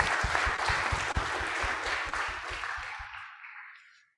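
Participants at the C20 Kick-Off Meeting and Ceremony applaud in a hall, a dense, moderately loud wash of clapping that holds steady, then quickly fades out over the last second.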